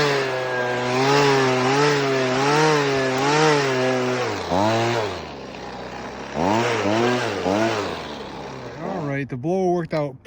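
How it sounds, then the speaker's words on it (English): A gas-powered leaf blower clears the gutters of an old tile roof, its whining drone running loud and steady near the mic, dipping and rising as the throttle changes, with a short break partway and sputtering at the end. "let's fire up the blower and see what we can do"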